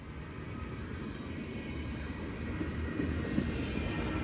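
A long CSX freight train rolls past in Georgia, a steady low rumble and broadband roar of cars on track, moderately close and unbroken, with faint clanks toward the end.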